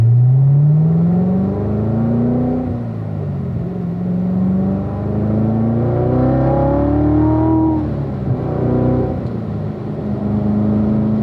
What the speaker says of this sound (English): Sweep out to the left side of the road and accelerate.